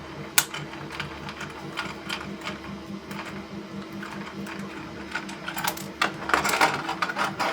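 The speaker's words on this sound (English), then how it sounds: "don't forget to pre-do the screw into that hole you just drilled" A screw is driven into a freshly drilled hole to cut its thread, giving a close, rattling mechanical whir with small irregular clicks and ticks, steady throughout and with no talk.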